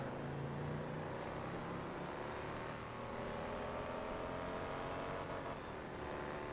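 A supercharged race car in Forza Motorsport 2 holds a steady, droning engine note at sustained speed, smooth and continuous without breaks.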